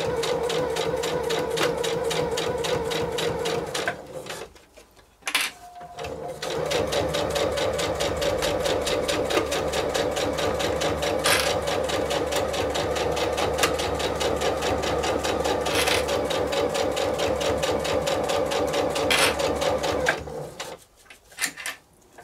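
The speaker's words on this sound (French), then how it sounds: "je vais venir réaliser la couture au point droit sur toute la longueur" A Dodynette sewing machine runs a long straight stitch down the length of a beach bag, a steady close mechanical whir that pauses briefly near the start and stops at the end.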